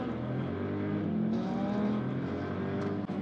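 A stock 1-liter, 85 hp hatchback with Brembo brake pads drives hard on a race track, its engine holding a steady, loud, close drone with a dense harmonic buzz and no break.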